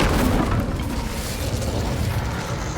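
An Incendio fire spell in Hogwarts Legacy: a loud, steady roaring burst with heavy low rumble, holding almost evenly throughout before easing slightly at the end.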